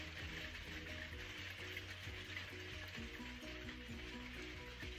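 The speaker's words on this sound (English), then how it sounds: "I'm hoping you can't hear the rain too much." Rain falls outside a home, a faint steady patter and hiss that continues evenly in the background with no voices.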